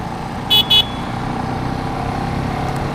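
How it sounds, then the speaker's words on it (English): Two quick, high-pitched beeps from the horn of a 2014 KTM 690 Duke motorcycle, a thin scooter-like toot heard twice in fast succession, over a steady rumble of traffic and background noise. "Give him a friendly honk."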